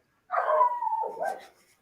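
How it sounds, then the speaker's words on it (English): A dog gives a single drawn-out bark that slides into a whining yelp, heard close and clear with no talking over it. "Oh, I can hear a dog."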